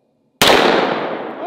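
A .44 Magnum gunshot fired into a 3-inch-thick fiberglass slab: one sharp, loud crack bursts in from silence, then a broad ringing decay fills the rest of the moment with no voices.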